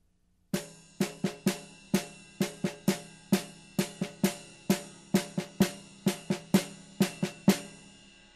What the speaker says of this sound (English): play that pattern in the left hand while the right hand just plays straight quarter notes on the ride cymbal